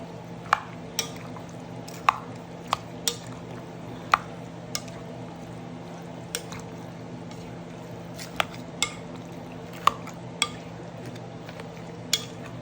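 Buko salad ingredients being mixed in a bowl, a utensil tapping and clinking against the sides in sharp, irregular knocks roughly every second over a faint wet stirring and steady background hum.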